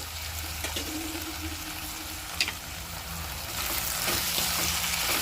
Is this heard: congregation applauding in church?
no